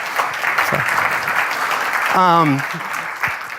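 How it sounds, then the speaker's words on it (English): A conference audience at a SignalR tech talk applauds a demo, sustained crowd clapping filling the room while someone briefly speaks over it partway through. "Give Brennan a round of applause for that great demo"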